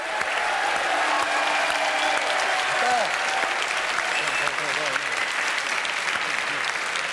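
Loud studio audience applause on a French variety show, dense continuous clapping filling the room, with a few voices and cheers rising faintly beneath the steady ovation.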